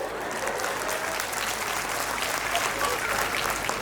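A crowd at a live Himachali comedy show at the Baijnath Shivratri fair claps in a steady, moderately loud burst, with a voice running faintly underneath.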